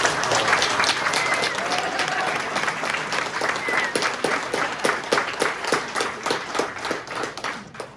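An audience at a military retirement ceremony applauds, a dense and fairly loud stretch of many hands clapping that holds steady and then thins out toward the end, with some individual claps standing out.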